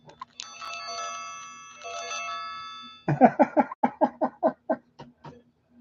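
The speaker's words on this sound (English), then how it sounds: "You like my bell?" A small hand bell or chime rings with sustained bright tones, two strokes close to the microphone in a quiet room, followed by a rapid series of short rattling rings that fade out.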